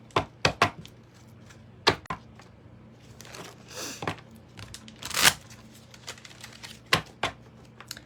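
A deck of tarot cards is shuffled by hand, with sharp crisp riffles and slaps coming in irregular bursts over a soft background.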